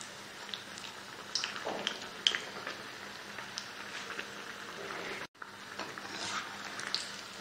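A burger pakoda sizzling in hot oil in a pan gives off a soft, steady crackle with scattered pops and drips. The sound stays fairly faint and close, and no one speaks.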